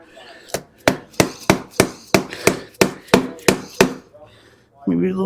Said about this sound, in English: But a little wedge of a screwdriver in there seems to be doing the job.